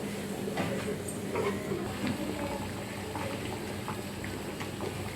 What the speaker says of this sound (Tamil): திரிச்சு வச்ச மசாலா போட்டு குழம்பு கொதிக்குது